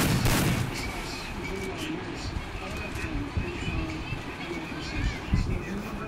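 Gunfire from an M87 shotgun in a battle royale video game, a dense stream of shots and impacts running throughout, loudest in a burst at the start, over constant game noise.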